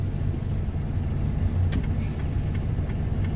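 A tow truck car drives off on a Berlin roadside-assistance job, a steady low engine rumble and road noise lasting throughout, moderately loud and close, with no talk.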